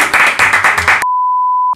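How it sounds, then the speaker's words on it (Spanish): Short burst of applause, about a second of quick, loud clapping that cuts off into a sustained electronic beep tone. "¡Aplausos!"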